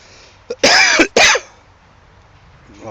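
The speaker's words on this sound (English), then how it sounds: "I've got a bit of a cough at the moment" A man out walking coughs and clears his throat, two rough bursts close to the mic in quick succession, then quiet outdoor air.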